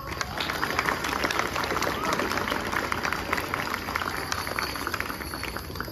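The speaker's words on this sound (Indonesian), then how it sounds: "Tepuk tangan dulu dong." Students at a school ceremony in Mempawah clap hands in a dense, continuous crackle of applause from a large crowd, steady and sustained throughout.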